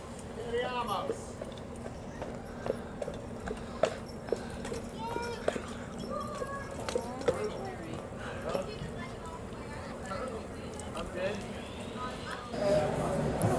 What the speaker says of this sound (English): There goes our nice horsey heading back to the stable.